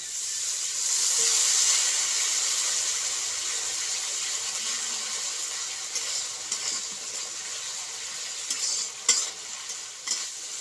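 Spice paste with a little turmeric is stirred and sautéed in water left from cooking potatoes, making a soft, continuous hiss and sizzle, with a few sharper scraping stirs near the end.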